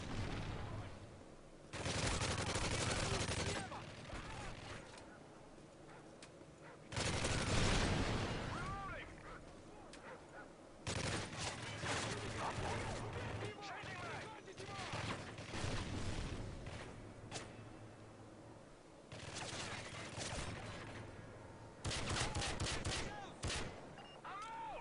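Revolver gunfire in Modern Warfare 3 Survival mode, heard as repeated loud bursts and shots in clusters amid game effects, with someone talking over much of it.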